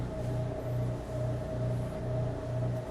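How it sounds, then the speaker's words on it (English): A low refrigerator hum drones steadily with a faint pulsing rhythm, quiet and constant in the background with no voices. "Sorry for the noise in the background. That's the refrigerator right there."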